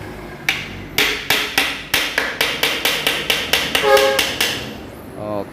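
A hammer taps a metal part of a Honda Tiger motorcycle during engine work, around fifteen quick, evenly paced metallic knocks up close, with a voice speaking briefly near the end.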